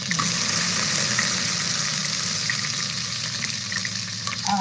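Water is added to a cooking pot where a sautéed spice paste is already sizzling in hot oil, a loud continuous gushing and hissing sizzle up close, without talking.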